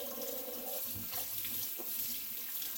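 Water from a kitchen tap runs steadily into the sink, a constant soft hiss and splash with no break and no voices.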